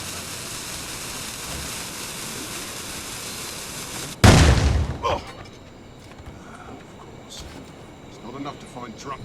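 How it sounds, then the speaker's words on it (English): Grenade explosion in Assassin's Creed Rogue: a single sudden loud, close blast cuts through steady background noise and then decays, with voices speaking in the scene. "Grenade coming!"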